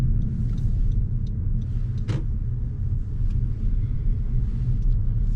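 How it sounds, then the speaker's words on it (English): Steady low rumble of a manual transmission car idling and pulling away slowly as the clutch is released in a parking lot, with a constant engine drone and a brief sharp click midway. "Now release the clutch and press the gas again."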